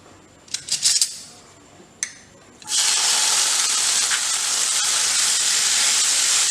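Fresh khoya hits a very hot kadhai and sizzles loudly and steadily, a broad hissing fry that holds for several seconds after a few short metallic clinks and scrapes of utensils, with no talking.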